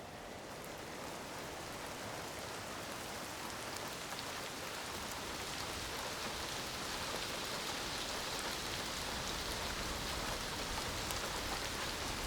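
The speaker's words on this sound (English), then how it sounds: "On rare occasions, rain falls even in the middle of winter." Steady winter rain patters down evenly at Odagahara, a soft continuous hiss of drops on surfaces with no voices or other sounds.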